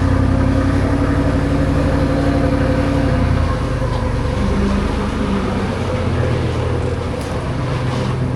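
A high-mileage Ferrari 458 engine runs close by, a loud, continuous deep rumble with a steady low drone that holds throughout and eases slightly toward the end, with no talk over it.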